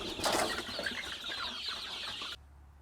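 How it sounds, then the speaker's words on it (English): Newly hatched baby chicks cheep in a busy, high-pitched chorus of overlapping peeps, fairly close and steady, cutting off abruptly near the end. "That's new baby chicks."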